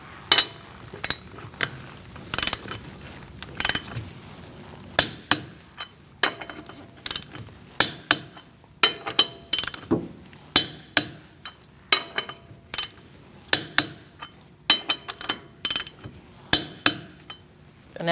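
Socket wrench on a 19mm socket torquing the lug nuts of a 2016-2019 Chevrolet Cruze wheel to 100 foot-pounds: many sharp metallic ratchet clicks and clinks in irregular bursts, close and fairly loud, with no talk.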